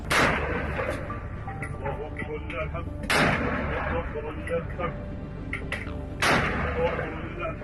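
Explosions from rocket launcher and mortar attacks on an Israeli Merkava tank in Rafah, three heavy booms spaced a few seconds apart over a rumbling, crackling background of distant gunfire.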